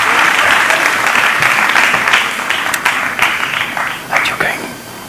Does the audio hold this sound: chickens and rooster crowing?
no